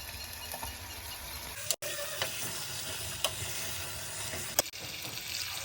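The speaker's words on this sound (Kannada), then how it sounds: "ಇವಾಗ ಇದ್ರೊಳಗಿಂದ ಹಸಿ ಹೋಗೋವರೆಗೂ ನಾನು 1-2 ನಿಮಿಷ ಇದನ್ನ ಫ್ರೈ ಮಾಡ್ಕೊಂಡಿದ್ದೀನಿ" Masala spices frying in a pan for mutton boti fry, a steady low sizzle throughout with a few sharp clinks of a utensil against the pan, no voices.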